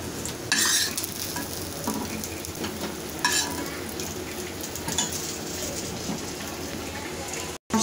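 Fish frying in oil in a pan, a continuous close sizzle punctuated by stirring and clinks of a utensil against the pan, with a short dropout near the end.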